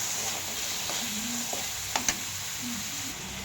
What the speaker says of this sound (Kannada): ಈಗ ನೋಡಿ, ಇದು ಫ್ರೈ ಆಗ್ತೈತೆ.